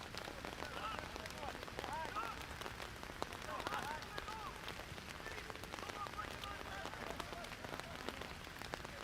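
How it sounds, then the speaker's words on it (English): Heavy rain pours down on a soccer field during an APSL match, a dense continuous hiss of drops drumming on surfaces, fairly faint and distant with crowd or commentary murmur underneath. "There's a downpour here now."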